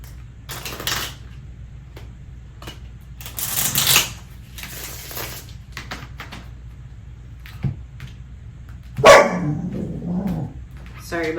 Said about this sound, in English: My dog just barked.